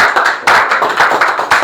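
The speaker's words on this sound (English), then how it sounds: "Give him a big round of applause." Audience clapping to welcome a presenter at a physics talk on force and motion: close, loud, brisk rhythmic claps in a short burst with no talk.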